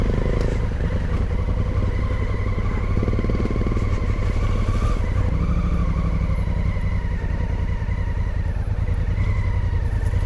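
A dirt motorcycle ridden along a green lane in second gear, its engine droning loudly and steadily throughout with a rough, buzzing tone and occasional clatter, no talking.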